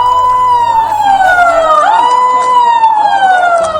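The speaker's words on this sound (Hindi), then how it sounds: "सायरन की आवाज सुनाई दी" An emergency siren sounds in Madhya Pradesh at 11 a.m., marking a two-minute silence: a loud, close, wailing tone that repeatedly sweeps down and back up, filling the whole stretch with no talk.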